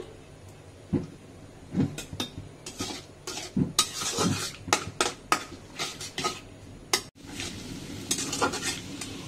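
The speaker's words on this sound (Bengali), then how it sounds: "কড়াইতে বেশ খানিকটা পেঁয়াজ দিয়ে দিলাম" Onions frying in a wok while a spatula stirs and scrapes, with repeated metallic clinks and knocks over a soft, steady sizzle close by.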